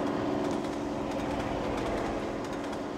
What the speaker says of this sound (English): It's another freight train.